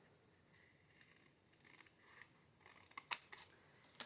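Scissors snip through a paper piece for a junk journal, a few quiet close cuts with light rustling, ending in a sharper snip and crinkle.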